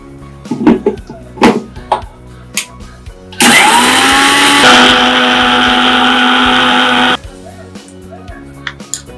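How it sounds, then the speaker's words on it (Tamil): A mixer grinder roars loudly for about four seconds, grinding roasted masala into paste with a shift in pitch midway, between quieter kitchen clatter. "இப்போ வறுத்துருக்க மசாலாவை இதில் போட்டு அரைச்சிக்கலாம்."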